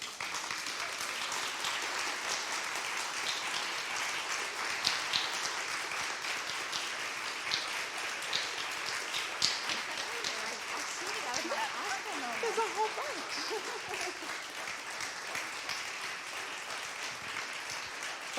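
Sustained audience applause at a county awards ceremony as nominees are called up on stage, steady clapping from a room full of people with some faint voices and murmuring underneath.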